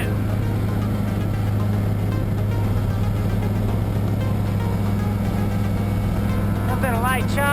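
A Himax ultralight aircraft engine drones steadily in flight as the throttle eases back, a constant buzzing hum with a voice talking over it.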